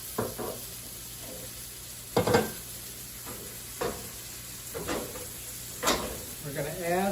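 Onions placed into hot oil for chicken fricassee sizzle faintly under several sharp bursts of clattering as pieces drop in, with a brief voice near the end.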